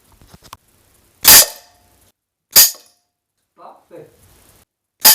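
An air rifle fitted with a scope fires three sharp, loud cracks spaced about a second and a quarter apart, with brief muffled speech between shots.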